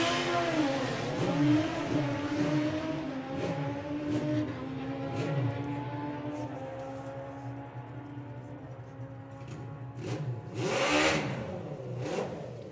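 Carl Thomas's 950 drag racing motorcycle making a run at the STP Sportsman Nationals, engine revving loudly through rising and falling gear changes, heard from the track side with a final burst of revs near the end.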